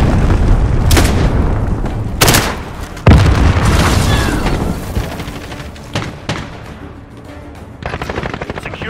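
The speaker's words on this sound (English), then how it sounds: "Enemy cruise missile." Cruise missile explosion in Call of Duty: Modern Warfare, with loud booming blasts and bursts of rapid gunfire in a dense, continuous battle din.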